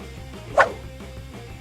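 A dog gives one short, sharp bark partway through, standing out over a steady low musical background.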